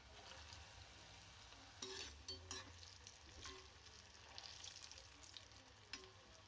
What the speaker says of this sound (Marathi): कोफ्ते आतून चांगले फ्राय व्हायला पाहिजेत.